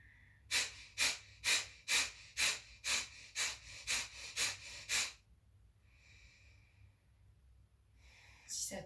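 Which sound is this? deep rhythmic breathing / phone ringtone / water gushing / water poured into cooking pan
deep rhythmic breathing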